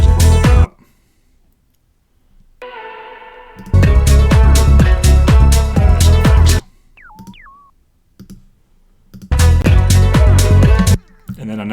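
House track with a squelchy 303 acid bassline and chopped vocal samples, loud driving sections with pounding low beats broken by short near-silent gaps and a sparse synth-only passage.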